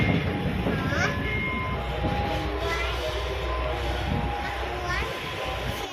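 Passenger train running, a steady rumbling roar heard from inside with rail squeals and clatter, while people talk over it.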